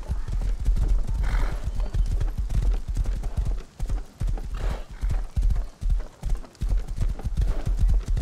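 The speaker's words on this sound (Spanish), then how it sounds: "El caballo allí parqueado y se va solo caminando, se gobierna." A horse walks on its own in the survival video game Rust, its hooves clip-clopping in a steady repeating rhythm, close and fairly loud, with a few whinnies in between.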